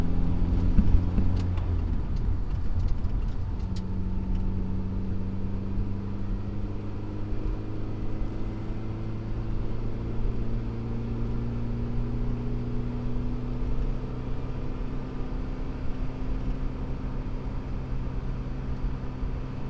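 A car with rolling anti-lag tuned through ECMLink V3 drones steadily and up close from inside, its engine pitch slowly climbing and sweeping across the stretch, with a few sharp pops early on and no talk.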